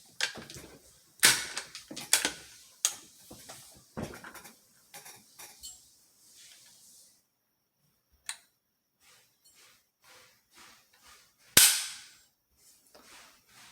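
Trigger of a Savage 110 Tactical rifle with an AccuTrigger being dry-fired and handled, heard as a string of sharp metallic clicks and snaps, close and isolated, spaced irregularly with quiet gaps between.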